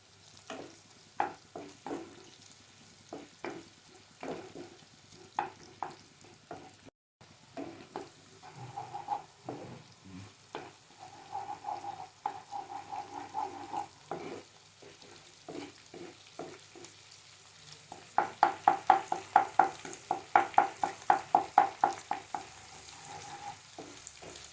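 Onions frying in a pan with salt added, stirred repeatedly with a utensil: a steady sizzle broken by rhythmic scraping strokes that grow quicker and louder toward the end, no talking.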